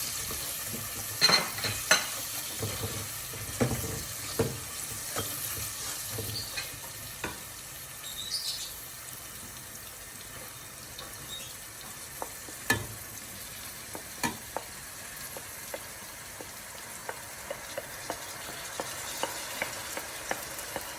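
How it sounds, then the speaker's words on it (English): Lentils frying in hot oil in a pan for lamb with channa daal, a steady soft sizzle broken by repeated sharp scrapes and clinks of a spoon stirring against the pan. "Now we're going to add all lentils first."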